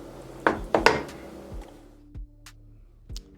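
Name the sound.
transferring apple turnover filling into a bowl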